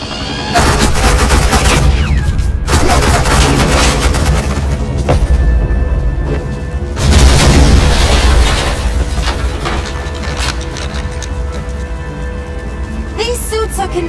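Gunfire in the game Batman: The Enemy Within, loud, sustained bursts of shooting and booming impacts with short gaps, continuing for over ten seconds.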